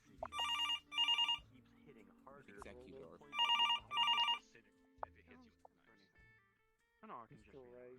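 Telephone in VRChat ringing in two pairs of bright electronic bursts a couple of seconds apart, fairly clear, with people talking in between and after.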